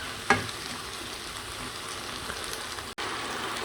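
Onion and tomato frying in a pan with pepper, a steady close sizzle broken by a spoon knock at the start and a brief drop-out near the end, with no voices.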